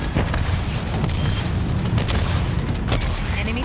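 An enemy turret is destroyed in Overwatch, a dense burst of booming explosion and crackling gunfire layered with game effects, loud and sustained throughout the short stretch.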